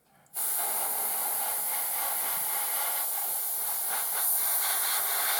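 A close airbrush sprays Vallejo Model Air burnt brown paint over a model, starting with a short click and then a steady, loud, unbroken hiss of air that continues to the end, with no talking.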